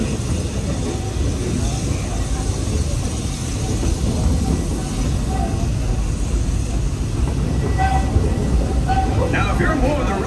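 Rumbling rail noise aboard the Walt Disney World Railroad train moving from Main Street toward Frontierland, a steady loud clatter with a faint bell-like ring near the end, while a voice speaks throughout.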